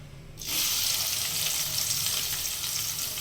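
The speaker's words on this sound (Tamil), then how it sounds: "பொடியை கட் பண்ண வெங்காயத்தை போட்டாச்சு" Finely chopped onion hits hot oil and erupts into a loud, close, continuous sizzle that starts suddenly and holds steady.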